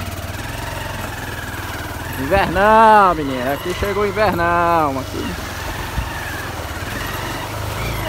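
A motorcycle engine idles steadily in the background on a muddy farm track while someone speaks loudly over it.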